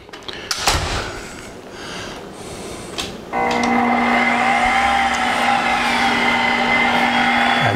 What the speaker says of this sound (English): That baby purrs like one of my cats. You're a good little mixer